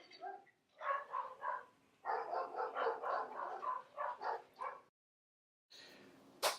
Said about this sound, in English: Sorry for the little disturbance of some dog fights.